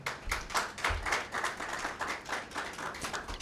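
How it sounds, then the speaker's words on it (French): A conference audience claps and applauds after a talk, a steady stream of close, overlapping hand claps with a few louder individual claps standing out, filling the space without speech. "Je note que vous avez cette fois-ci applaudi sans même qu'on ne vous le demande."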